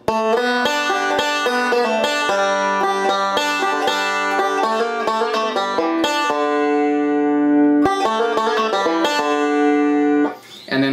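Banjo break with a double hammer-on pull-off lick: a fast, dense run of bright picked notes, continuous and loud, played alone, with a brief pause near the end.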